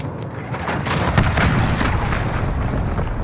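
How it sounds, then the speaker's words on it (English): An incoming missile's explosion in Call of Duty: Modern Warfare rolls out as a deep, sustained booming rumble with crackling debris, loud and close, lasting a few seconds. "Missile incoming!"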